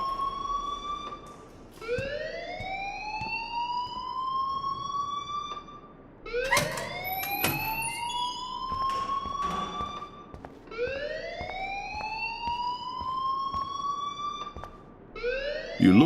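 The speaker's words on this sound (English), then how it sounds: "please turn off that alarm since that's your job" A wailing siren-like alarm rings in the Life is Strange video game, rising sweeps repeating about every four seconds, loud and continuous with sharp electronic tones between sweeps.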